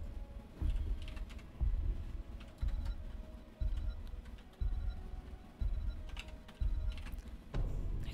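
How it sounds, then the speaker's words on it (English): Bursts of rapid computer keyboard typing come in steady, near-even clusters about once a second, fairly close and clear, with faint game sound effects in the background and no talking. "One more, and then I'll stop typing."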